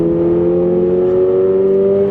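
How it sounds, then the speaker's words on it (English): Boxer engine of a 2026 Toyota GR86 Yuzu Edition with an upgraded exhaust, holding a steady, close, droning rumble with a constant pitch and no talk over it. "The Boxer engine just has a really good rumble to it."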